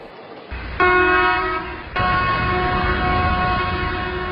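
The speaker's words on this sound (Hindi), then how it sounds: "गार्ड भी एक छोटा हॉर्न देकर बताता है कि वो तैयार है।" An Indian Railways train horn: a short toot, followed by a second, longer sustained blast over a low engine rumble, fairly loud and nearby.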